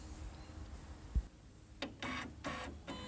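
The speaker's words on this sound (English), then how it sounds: "Printing." An office printer running through a print job, with several short mechanical bursts of feeding and printing separated by brief pauses, heard fairly close in a quiet room.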